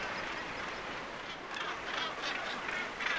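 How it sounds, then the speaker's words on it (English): Gannets call at a crowded cliff nesting colony by the sea, a dense mass of harsh cackling calls at moderate distance over wind and surf, with a few sharper cries standing out. "Gannets."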